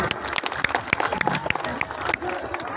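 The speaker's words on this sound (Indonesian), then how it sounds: "jadi kita kasih dulu tepuk tangan dulu untuk kedua beliau" A crowd at a political rally in Aceh Singkil, Indonesia, applauds two honoured guests. Scattered claps and murmuring carry through a busy, reverberant space, with crisp individual claps standing out from the crowd noise.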